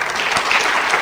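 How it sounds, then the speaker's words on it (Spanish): Brief, loud applause from a church congregation, a wash of many hands clapping at once for about a second. "Dele ese aplauso al Señor,"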